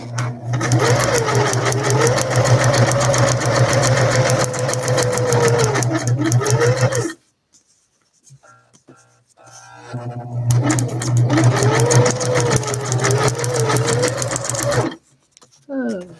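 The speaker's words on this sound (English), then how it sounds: "I love sewing on paper." A sewing machine runs a zigzag stitch on paper in two loud close bursts of rapid steady whirring and clatter, separated by a pause with faint handling noises.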